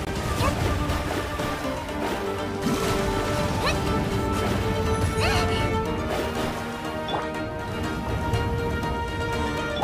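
The Pyro Hypostasis seal in Genshin Impact is smashed again and again, with loud repeated crashing hits over dense game effects and music and a voice talking underneath.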